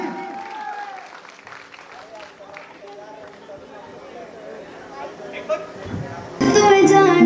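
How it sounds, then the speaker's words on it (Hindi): Applause at a sangeet wedding celebration starts under crowd chatter and background sound, then swells abruptly into a loud, dense burst of clapping near the end. "जोरदार ताली"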